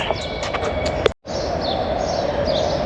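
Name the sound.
birds chirping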